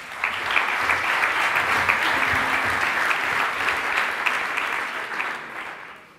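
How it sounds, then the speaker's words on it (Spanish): An audience applauds a speaker at a NAUKAS 2017 science talk, dense steady clapping filling the room for about six seconds before tapering off at the end. "Un aplauso para él."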